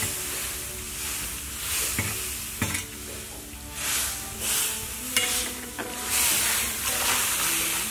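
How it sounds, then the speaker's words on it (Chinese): Enoki mushrooms stir-fry in a pan with a continuous close sizzle, broken by repeated scraping and clanking strokes of a utensil as they are tossed. "金针菇炒一下子。"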